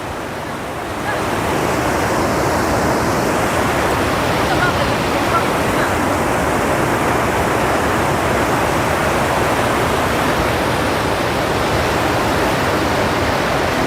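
Floodwater of the swollen Mahur river at Kolabari rushes in a loud, steady broadband roar that fills the whole stretch without pause after a brief quieter start.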